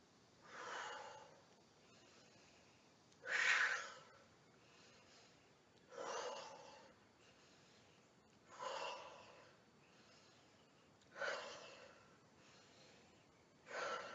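Slow, deep breaths during outdoor yoga in the woods, six long breaths evenly spaced a few seconds apart, each swelling and fading clearly against a quiet background.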